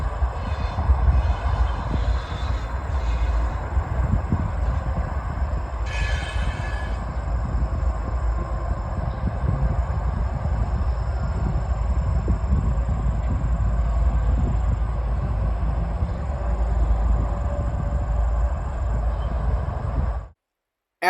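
A CSX heritage unit freight train rolls past, a loud, continuous heavy rumble of wheels and engines sustained throughout before cutting off abruptly at the end.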